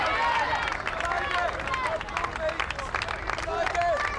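A golf crowd in the stands at Royal Liverpool cheers and claps as Tiger Woods walks through toward the presentation at The Open, a steady dense roar with scattered whistles and shouts, with a commentator talking over it.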